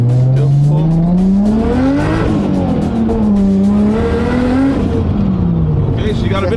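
A Nissan S13 drift car with anti-lag and a heavy clutch, making about 450 horsepower, accelerates hard near the microphone, its loud engine note climbing and dipping through repeated rising pulls with tire noise mixed in.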